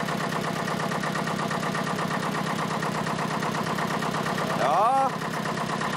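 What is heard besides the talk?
tractor engine running as it drives slowly forward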